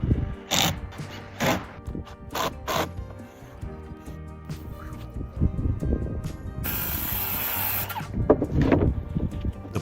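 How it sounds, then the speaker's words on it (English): A screw drill drives fasteners through plywood sheets into sloping wooden roof rafters on a forest cabin build, with several short whirring bursts early on, then a longer, louder sustained run of drilling near the end. "He uses a screw drill to attach each board to the wooden beam to ensure it is firmly in place."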